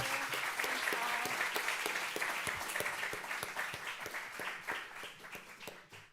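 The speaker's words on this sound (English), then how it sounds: "let's give a warm applause" Warm audience applause at the close of a talk in a design-focused lecture series, many hands clapping at first, with sharp distinct claps standing out, tapering gradually over about six seconds.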